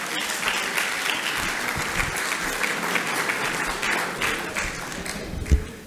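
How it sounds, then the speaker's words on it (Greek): Audience applause at a Greek investment, research and innovation event, a sustained loud round of clapping from a crowd with one sharper clap near the end, a voice faintly audible beneath. "Κάντε ένα χειροκρότημα"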